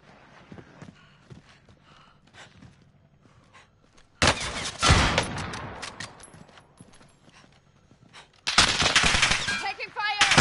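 Automatic gunfire in a video game: two loud, sustained bursts of rapid shots cut in after quieter background sounds and faint voices.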